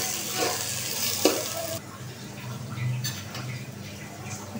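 Sugar and salt sizzle in hot oil in a pan while biryani spices are prepared, a steady close frying hiss with a few utensil clinks and stirring scrapes, the sizzle easing partway through.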